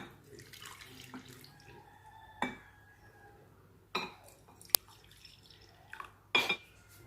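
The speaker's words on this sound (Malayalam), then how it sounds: "ഞാൻ 3 ബൗൾ എടുത്തിട്ട് ഈ 3 ബൗളിലേക്ക് ഒഴിച്ചു കൊടുക്കുകയാണ്" Dissolved jelly is poured from a container into three bowls, giving soft, faint liquid trickles broken by a few brief splashes and light clinks of the bowls in a quiet kitchen.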